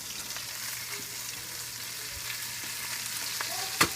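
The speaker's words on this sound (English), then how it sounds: "Ooh, I can hear it now. Yeah. That's the good sound." Pork ribs frying in hot oil, a loud continuous crackle and sizzle with a few sharper pops and clatters near the end.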